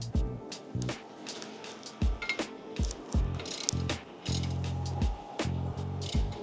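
A hand ratchet gives the final tightening to a Rennline tow hook license plate mount, a series of close clicking strokes and short bursts of pawl chatter repeating for several seconds.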